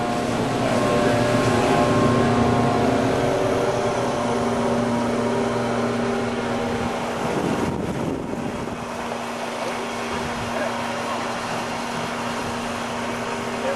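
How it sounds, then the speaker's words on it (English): Aerzen 30 horsepower blowers running at a water treatment plant give a steady, loud mechanical hum with a constant drone and wind-like rush throughout. "30 horsepower blowers."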